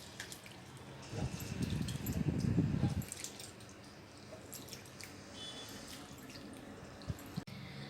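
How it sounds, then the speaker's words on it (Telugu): Moong dal lentils swished in water by hand while being washed, a soft sloshing burst of about two seconds followed by quieter drips and light splashes in a kitchen. "ఈ పెసరపప్పు వేసుకున్న తర్వాత 2-3 సార్లు బాగా వాటర్తో ఇలా వాష్ చేసుకోవాలి"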